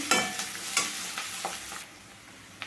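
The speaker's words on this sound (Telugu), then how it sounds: "ఒక అర స్పూన్ అయితే అల్లం వెల్లుల్లి పేస్ట్ అయితే వేసానండి ఇది కూడా బాగా వేయించుకోవాలండి" Ginger garlic paste sizzling in a hot pan, close and fairly loud, with a few sharp stirring scrapes punctuating the crackle before it settles to a quieter frying hiss.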